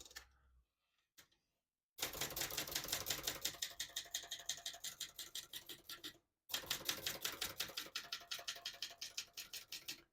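Rapid mechanical keystrokes from a 1971 Brother Opus-210 portable typewriter, two steady bursts of close, loud clacking separated by a short pause, with an isolated tap or two beforehand.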